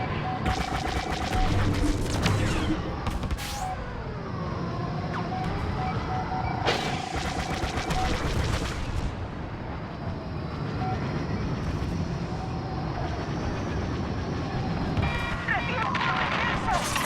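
Laser blasts, engine roar and explosions from starfighter dogfights in the video game Star Wars Battlefront, dense and continuous with bursts of shots and booms throughout, mixed with voices talking over the battle.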